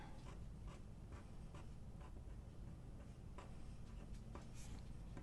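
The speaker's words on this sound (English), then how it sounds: "So I'm actually going to just write over these and cover them up as I write" A pen writes in a paper planner, giving faint, close scratchy strokes that come in short irregular bursts over a soft steady background hiss.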